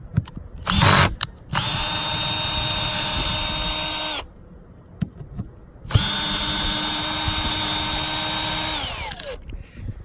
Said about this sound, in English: I'm gonna start taking away the hex bolts here and see if everything goes well